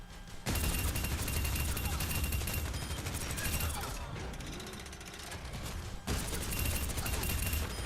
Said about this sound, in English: He has 80 rounds in his assault cannons